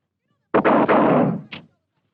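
Small arms fire crashes out in a single loud volley at a 1965 Air Force OSI agent training range, followed a moment later by one shorter, fainter report.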